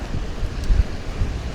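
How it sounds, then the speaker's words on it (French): Wind buffets a microphone at the seaside on a cycling outing, a steady low rumbling roar with gusty swells, no voices. "J'espère que vous m'entendez, qu'il n'y a pas trop de vent, parce que ça souffle"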